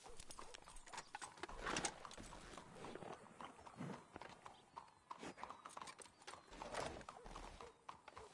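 Horse hooves clip-clop at a steady walking pace in a GTA video game, with an occasional whinny and shifting ambient game noise behind.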